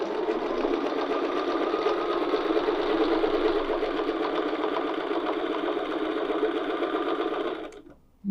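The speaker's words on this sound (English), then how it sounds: "I'm going to stitch down to the bottom all the way to B." A sewing machine stitches continuously along template lines for a loop-to-loop oval design, a steady close whirring hum with a rapid needle rhythm that runs without pause for about eight seconds before stopping abruptly.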